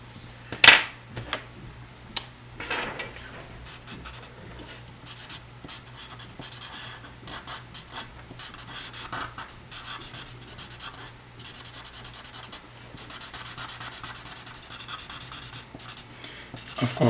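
A slightly chunky pen scratching and rubbing across paper as a standing figure is sketched, a close, continuous dry scraping with quick strokes and a sharp tap near the start, no voices.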